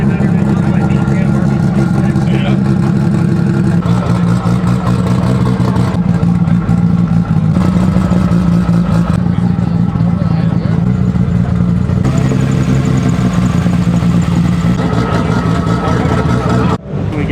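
A Nissan Skyline R34 GT-R engine revs loudly and repeatedly, dropping and climbing in pitch in a sustained mechanical roar, with voices faintly underneath.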